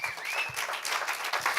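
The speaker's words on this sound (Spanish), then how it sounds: "Dale un aplauso al Señor." A church congregation claps briskly in a short burst, with dense overlapping hand claps and a faint whistle-like tone riding above.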